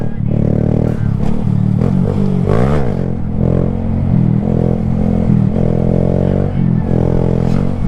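A group of Honda Grom motorcycles ride together, their small engines buzzing loud and close with a sharp rev that rises and falls midway, plus clattering mechanical noise throughout.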